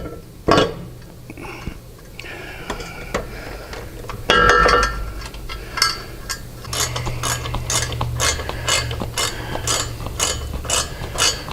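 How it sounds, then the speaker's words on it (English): Metal bolts are started by hand while a motorcycle guard is fitted, producing irregular clicks, taps and a rapid ratcheting run, close by with no talk. "We're going to slip our top in, and then we're going to start our bolt and then put our bottom ones in."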